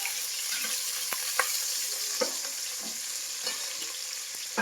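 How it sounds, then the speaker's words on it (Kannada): Onions and peanuts frying in a pan for khara khichdi, a constant loud sizzle broken by occasional clinks and scrapes of a stirring spoon, close up and with no talking. "ಕೆಂಪಗೆ ಬರೋವರೆಗೂ ನಾವು ನೀಟಾಗಿ ಫ್ರೈ ಮಾಡಬೇಕು."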